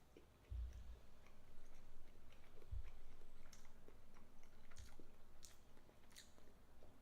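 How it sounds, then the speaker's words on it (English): Someone chews a large, thick low-carb pancake eaten by hand like a cookie, giving soft, moist mouth sounds with a few louder bites, close to the mic and steady over several seconds with no talking. "Alright, so we're going to eat it."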